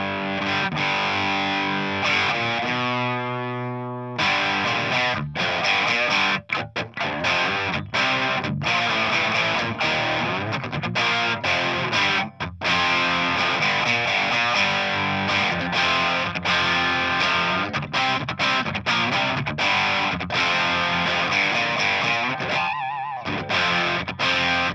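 An electric guitar runs through a Boss DS-1-based Klon-style overdrive pedal with the guitar volume rolled down, giving a thick, distorted tone as sustained chords and busy riffs are played loudly and continuously, with no talking.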